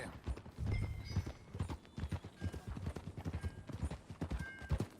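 Steady clip-clop of horse hooves at a walking pace in Red Dead Redemption 2, close and rhythmic, with a brief whinny near the start.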